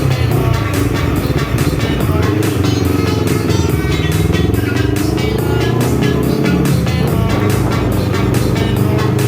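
A motocross dirt bike engine runs loud and close for the whole stretch, its buzzing drone shifting in pitch as it works, with no talking.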